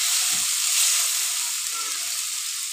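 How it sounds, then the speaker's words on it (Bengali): Paneer pieces fry in a kadai of mustard oil with turmeric and salt, giving an even, close sizzling hiss with a soft bump near the start and no talking. "হলুদ লবণ দিয়ে পনিরগুলো ভেজে নিচ্ছি।"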